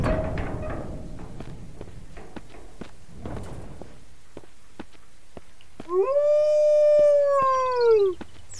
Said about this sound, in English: Yike. Wolf.